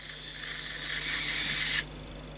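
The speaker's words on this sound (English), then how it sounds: "you can actually hear the torque of the screwdriver." A steady high-pitched ATuMan E3 precision electric screwdriver motor whine with a hissy edge, rising slightly in strain as the spindle is clamped, before cutting off abruptly near the end.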